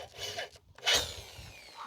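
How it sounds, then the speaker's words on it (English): A power tool bores out a metal collar from 1/2 to 3/8 inch during a 2001 Jeep TJ steering repair, giving short whirring bursts separated by a brief pause, fairly quiet and close. "I'm just gonna carefully bore this out."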